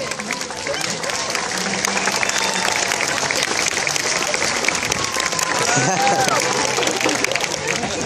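Loud, steady applause and cheering from the audience at a seal and sea lion show in Australia, sustained throughout with crowd voices mixed into the clapping.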